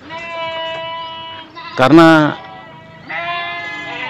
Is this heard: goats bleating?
yes